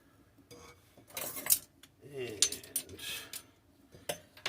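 Utensil clinking and scraping through soft molasses cookie batter in a mixing bowl, a series of irregular close taps and scrapes with brief bright clinks, fairly quiet overall.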